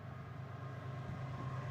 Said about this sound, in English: There is the train.